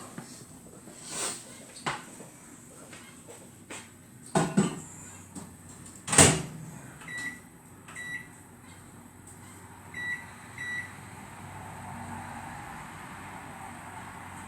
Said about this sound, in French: on va les mettre 7 minutes à 600 watts au micro-ondes.